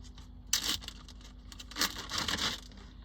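Cooled vegetables from an Instant Pot meal prep go into a plastic zip bag, giving close, bursty crinkling and rustling of plastic in two main flurries, with no talking.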